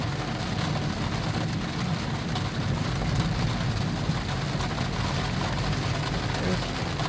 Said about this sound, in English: hear the raindrops on the glass top.